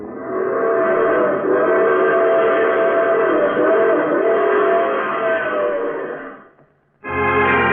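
A steady, loud rumble of a moving train runs for several seconds, fades briefly to near silence, then a strong engine-like roar returns.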